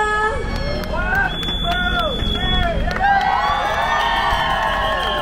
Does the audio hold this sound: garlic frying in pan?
no